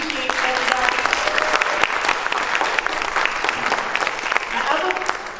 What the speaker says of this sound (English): Just go ahead and give yourselves a round of applause for being here.